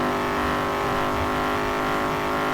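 A modded C7 Corvette V8 in GTA V with a newly installed engine sound gives a loud, steady, close engine roar throughout a short burst, with no talking.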